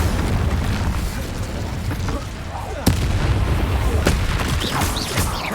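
Blasting spell explosions from the Hogwarts Legacy video game, a steady roar of booming bursts with sharp sudden hits near three and four seconds, loud and continuous throughout.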